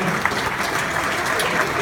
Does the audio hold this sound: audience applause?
yes